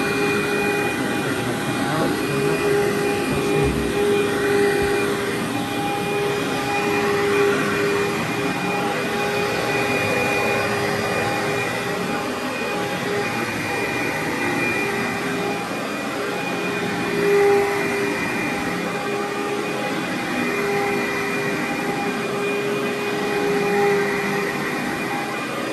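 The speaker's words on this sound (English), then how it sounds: "now we're vacuuming the second room" A vacuum cleaner runs on a carpet at a constant loud, steady drone with a whining tone, continuous throughout with no pauses.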